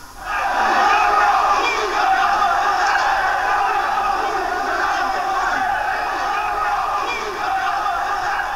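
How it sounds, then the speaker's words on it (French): Large crowd outside a PSG versus Tel Aviv football match loudly chants nationalist slogans, a sustained roar of many voices shouting in unison, steady and dense from start to finish. "c'est une foule qui scande bleu, blanc, rouge, la France aux Français"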